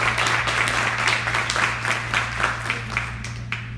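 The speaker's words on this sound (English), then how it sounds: "Let's give them a warm round of applause" Audience applause welcomes performers at a Carnatic music event, a steady wash of many hands clapping at moderate level, heard alone without talk over a constant low hum.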